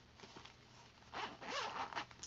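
Zipper on a small purse pouch pulled open in a couple of quick, close raspy strokes, loudest toward the end, with no talking.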